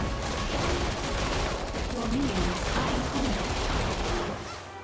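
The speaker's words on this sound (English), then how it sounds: "we've got a lot of minions in the area who are using guns" Constant, dense bursts of gunfire from minions in the video game Evil Genius 2 form a loud, continuous wash of shots that fades slightly at the end.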